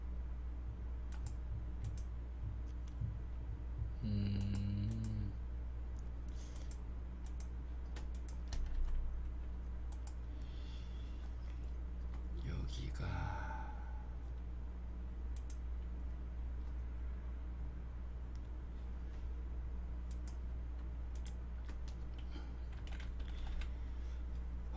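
Typing on a computer keyboard, quiet bursts of key clicks spread through the stretch over a low steady hum, with a few louder clacks and no talk.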